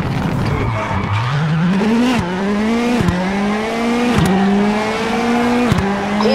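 A Volkswagen Polo rally car in WRC 8 on a German stage brakes hard and skids, its engine pitch climbing and dropping through several quick gear changes while the tires squeal loudly and close throughout.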